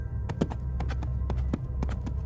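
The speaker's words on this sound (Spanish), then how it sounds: "era el sonido rítmico y pesado de unos cascos de un caballo" Rhythmic, heavy horse hooves clip-clop in pairs of sharp knocks over a low steady rumble, close and loud, with no talking.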